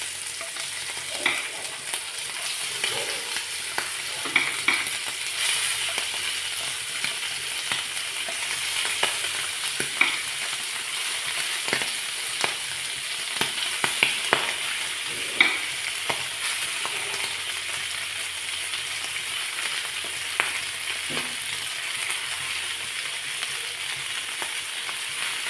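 Malabar-style mussels fry in hot oil with a steady sizzle, punctuated by scattered spatula clicks and scrapes as pieces are added and turned, close and fairly quiet, with no talking.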